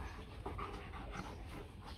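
A dog pants steadily and close by, fast breathy huffs running the whole time over a noisy indoor background, with no talking.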